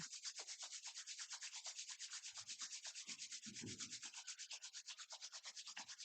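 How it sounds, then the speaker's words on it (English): Palms rubbed briskly together during a yoga session, a fast rhythmic swishing friction repeated steadily for several seconds, close and quiet, with a couple of soft low thumps partway through. "Rub the palms one more time."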